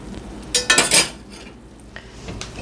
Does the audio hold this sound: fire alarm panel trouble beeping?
no